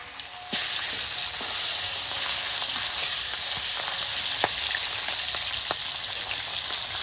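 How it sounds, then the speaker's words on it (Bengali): Fish fries in oil in a pan with a steady crackling sizzle and scattered sharp pops, starting abruptly after a brief quiet moment and holding even throughout, with no voices. "মাছগুলো এক এক করে দিয়ে ভেজে নেবো"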